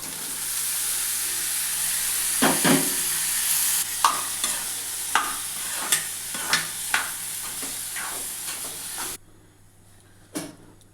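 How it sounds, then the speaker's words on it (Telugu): Boiled chicken and broad beans hit a hot pan with a loud sizzle, followed by a series of evenly spaced stirring scrapes before the frying noise abruptly drops away near the end. "ఇప్పుడు చికెన్ చిక్కుడుకాయ ఉడకబెట్టింది వేసేద్దాం"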